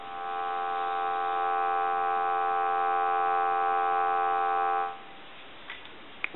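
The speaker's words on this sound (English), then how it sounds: "Go ahead and give you some dial tone." A steady, even dial tone on an original Mickey Mouse telephone hums for about five seconds, then cuts off, leaving faint line noise and a small click.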